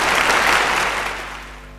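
Audience clapping, a dense burst of applause that starts loud and steadily fades out over under two seconds.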